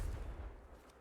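A Confringo blasting spell goes off in Hogwarts Legacy as a single low, muffled boom that rumbles quietly and fades away within a second.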